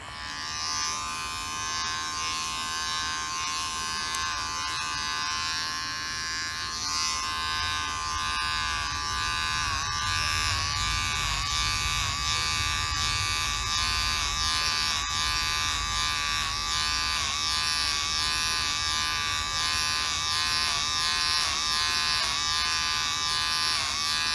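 Electric hair clippers fitted with a 6 mm guard cut a man's hair during a home haircut, giving a steady, close, loud buzz that runs unbroken for the whole stretch with no talking.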